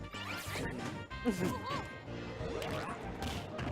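Forward smash hits land in a Super Smash Bros match between Wario and Ness, with sharp impact crashes and whooshes over busy game music and effects; commentators talk throughout.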